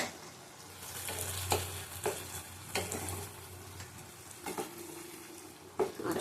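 Rohu or catla fish pieces fry and get stirred in an oil-rich spiced masala with sour yogurt over low heat, giving a soft sizzle broken by scraping strokes and clinks.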